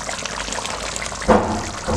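Ground masala paste slides into a pot of boiling tamarind kuzhambu with a brief, thick pour and splatter. A steady cooking hiss runs beneath it.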